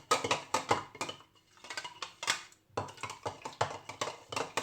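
Ingredients for a rice water face cleanser stirred together in a bowl, producing a rhythmic run of close clinks and scrapes of a spoon against the container with brief pauses.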